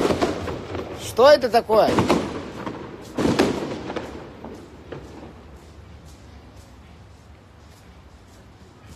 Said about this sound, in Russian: Какой-то плохой фейерверк